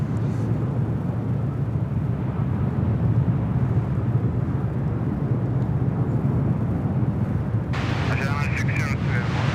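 A jet airliner departs at Sydney Airport with a steady, loud, broad roar of engines throughout, while a voice talks over it.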